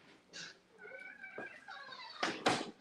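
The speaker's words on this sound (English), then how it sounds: "Squeaky doors, squeaky doors." A squeaky door gives a drawn-out, wavering creak that rises and falls, followed by a couple of louder knocking sounds near the end.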